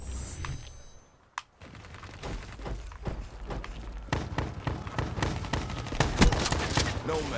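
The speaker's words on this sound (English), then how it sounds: "Why is everyone using shotguns?" Shotgun fire and other gunfire ring out in a Black Ops 3 multiplayer match, with dense, loud bursts of shots and impacts building after a brief lull.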